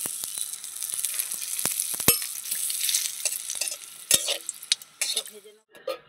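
Dried red chillies, bay leaves and radhuni sizzle in hot oil for a tempering, with steady crackling frying, scattered sharp pops and a few spoon-against-pan clinks toward the end.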